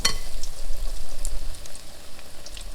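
Oreos dipped in pancake batter frying in a pan, a close crackling sizzle with small popping bursts that runs briefly without talk.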